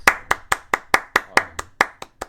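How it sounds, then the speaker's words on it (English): Ten sharp hand claps land in a steady, fairly quick rhythm, each one crisp and close, with nothing else heard between them. "Do I have the little clap sound effect available?"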